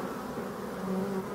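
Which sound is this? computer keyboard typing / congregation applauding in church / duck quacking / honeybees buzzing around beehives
honeybees buzzing around beehives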